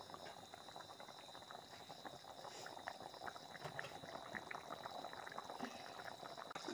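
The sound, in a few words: curry boiling in a pot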